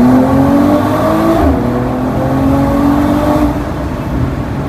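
A Mercedes-AMG E53 Coupe with the AMG performance exhaust revs loudly and close by. The steady engine drone climbs in pitch and eases back over several seconds, with no talking.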